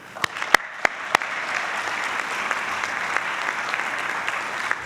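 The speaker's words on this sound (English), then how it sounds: "I want to give them a round of applause" An audience at an executive MBA recognition ceremony applauds spouses and partners, opening with a few loud, close, separate claps before settling into a wide, even wash of clapping.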